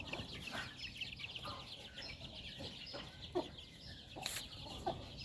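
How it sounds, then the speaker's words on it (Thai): Chicks and a hen on a Thai poultry farm, soft clucking and peeping mixed with occasional sharper calls against a busy rural background, fairly quiet and close. "ลูกไก่สมบูรณ์แข็งแรง"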